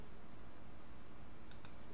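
Two quick, faint computer mouse clicks land close together over a quiet room hum.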